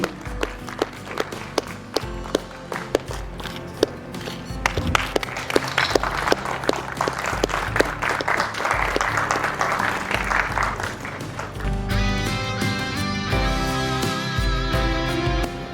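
An audience applauds at the Kalptaru Awards 2022 ceremony in Jaipur, steady clapping that swells and holds for several seconds, loud and close, with music rising underneath toward the end.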